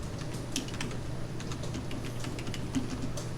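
Quick bursts of computer keyboard typing, CAD commands being entered in a 2D injection-mould drawing program, with irregular clustered keystrokes close to the microphone and no talking.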